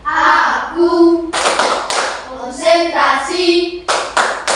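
A school class plays a concentration clap game: sharp bursts of group hand clapping break in between chanted children's voices, loud and close, in a quick patterned rhythm.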